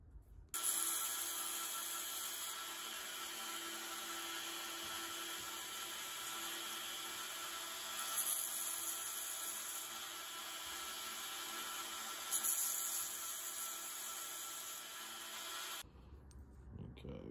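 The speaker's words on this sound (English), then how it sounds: "clean up all of our drill holes just on the flat of the grinder" A steady, continuous grinding whine of a grinder smoothing drill holes on a knife handle against its flat, with a few brief surges in intensity, close and fairly loud throughout.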